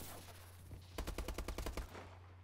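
In a first-person shooter game, a fast machine-gun burst of about a dozen sharp, evenly spaced shots cuts in loudly over a low background hum, then stops.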